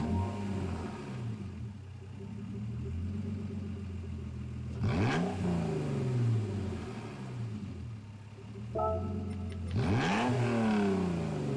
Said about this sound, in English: We'll listen to the startup sound